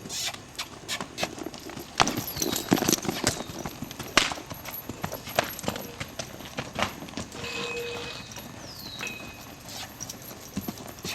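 A young horse on its first ride at a trainer's, hooves clip-clopping in a steady walking rhythm close by, with occasional snorts and some faint background sounds.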